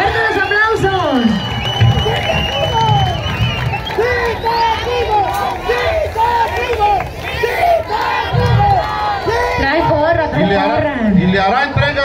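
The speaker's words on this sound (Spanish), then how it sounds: "¡Fuerte los aplausos!" A pageant audience applauds and cheers for the newly crowned 2024 winner, a loud dense crowd roar with shouts and whoops throughout while a voice carries over the noise.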